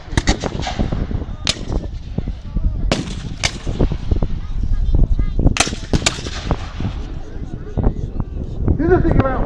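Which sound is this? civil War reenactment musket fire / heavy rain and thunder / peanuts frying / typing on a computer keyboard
civil War reenactment musket fire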